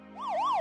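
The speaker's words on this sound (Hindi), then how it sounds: "तभी दूर से सायरन की आवाज आती है" A police car siren wails in a steady rising-and-falling sweep, growing louder as it approaches from a distance along a village market road, with no voices over it.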